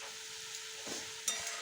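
Tomato quarters dropped into spices frying in a pan, a steady close sizzle with a brief stir and a sharper hiss partway through, no talk.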